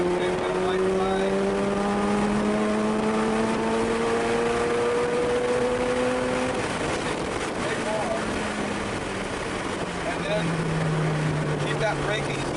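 A Mazda FD RX-7 at a high-performance driving event on a racetrack drones loudly from inside the cabin, its engine tone rising as it accelerates and then dropping under braking, with road and wind roar throughout.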